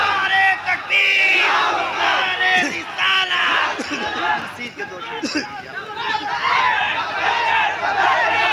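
A crowd at a religious gathering chants takbir back to a call, a loud massed roar of voices with whoops and cries that swells and ebbs over several seconds, close and filling the space.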